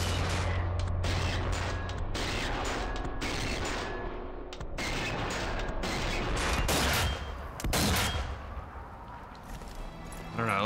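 Dense, continuous gunfire from the zombie shooter game Zombie Army 4: Dead War fills the whole stretch, rapid repeated shots and blasts layered over a loud game soundtrack, with a louder burst near the end.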